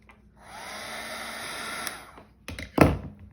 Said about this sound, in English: I'm going to use my heat gun to speed up the drying process